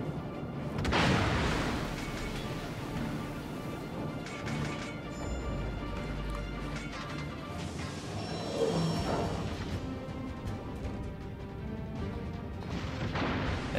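Heavy naval artillery blasts and shell impacts in the World of Warships video game, featuring a German cruiser Graf Spee, with a few booming hits spread over a continuous low battle rumble.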